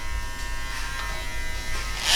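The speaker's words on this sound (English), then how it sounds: "So I'm gonna take my trimmer" An electric beard trimmer buzzes steadily close by during a beard fade, a continuous motor whine that swells slightly louder at the end, with no speech.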